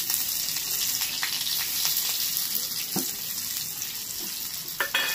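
Chopped onion fries in hot oil with a steady, close sizzle, broken by a few sharp clicks and scrapes of stirring, and one louder clatter near the end.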